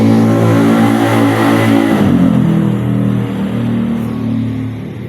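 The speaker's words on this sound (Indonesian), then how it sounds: "Maaf ya teman-teman, banyak kendaraan lewat nih" A car engine revs loudly as it passes close by on a busy street, its tone dropping and fading after about two seconds into a lower steady rumble of further traffic.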